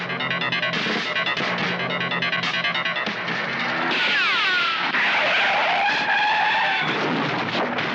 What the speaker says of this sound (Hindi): अरे वो गाड़ी तो उल्टा हो गया